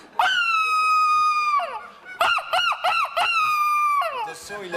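A human voice mimics a seagull: long, shrill, squealing wails broken by a quick burst of yelping cries, all loud and close with no other sound.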